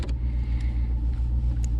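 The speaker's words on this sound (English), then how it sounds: "you want to make sure your engine's running" Engine of a 2006 Citroen C3 idling nearby, a steady low rumble with a regular pulsing beat and faint clicks above it.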